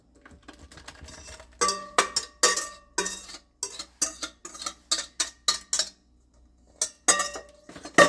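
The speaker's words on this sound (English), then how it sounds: "you're going to add your wet ingredients into your flour mixture" Wet ingredients are stirred into a flour mixture for honey banana bread, heard as a close series of sharp spoon-against-bowl clinks and taps in uneven bursts, with short pauses between strokes.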